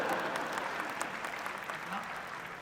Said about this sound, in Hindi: ताली भी नहीं बजाओगे